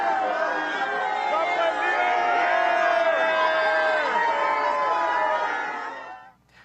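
A large crowd in St. Peter's Square cheers and calls out greetings as Pope Leo XIV passes, a loud sustained roar of voices and whoops that holds steady before fading out at the end.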